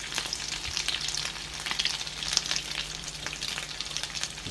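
A shrimp omelette fries in a pan with a constant close sizzle and crackle, the steady hiss broken by a few faint scrapes and bumps, and no one speaking.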